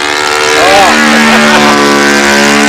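A Super Tiger 60 model engine screams steadily at high revs under load, a loud, sustained buzzing drone with a faint wavering pitch, while a voice talks over it.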